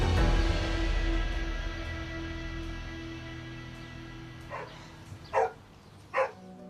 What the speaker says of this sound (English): No one appears to be home, except an angry-sounding dog.